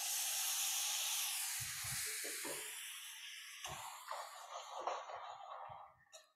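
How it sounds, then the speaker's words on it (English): Brown stock poured into a hot pan, a loud close steamy hiss that slowly fades, with crackling bubbles and a few clinks near the end. "I'm gonna deglaze with some brown stock."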